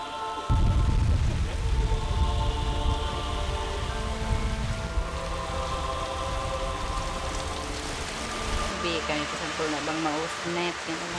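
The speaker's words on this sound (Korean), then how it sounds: "세차게 비가 쏟아집니다. 갑작스런 소나기에 파도가 몰아치고" Heavy rain from a sudden shower pours down on a floating water village out at sea, a steady broadband hiss and patter with waves lapping, continuing with voice narration over it throughout.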